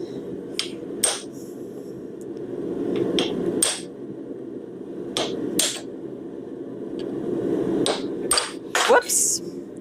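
Hammer strikes on a steel chisel decorating a hot bottle opener at a blacksmith's forge, a dozen sharp metallic blows at irregular intervals over a steady low workshop hum.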